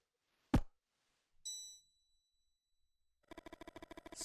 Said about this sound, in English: Suddenly, the bell rings and you feel an invisible force trying to drag you into the present.